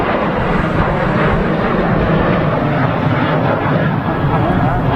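A Ryanair UK jet on runway 23 right at Manchester Airport, departing for Genoa, gives off a loud, continuous engine rumble that stays steady throughout.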